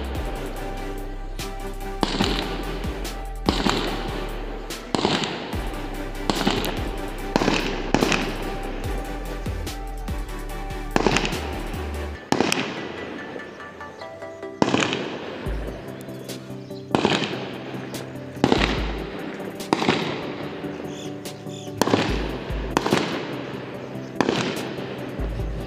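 Gunfire hitting a wall in Happy Valley, Shillong: a long series of sharp, loud bangs, mostly single shots about one to two seconds apart, each with a short ringing decay, over about twenty-five seconds.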